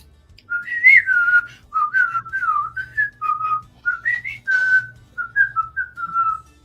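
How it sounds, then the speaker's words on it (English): A person whistles a song melody, a sequence of clear sustained and gliding notes in short phrases that carry on steadily for several seconds, close up and alone with no talking. "With the whistling, and that was her song."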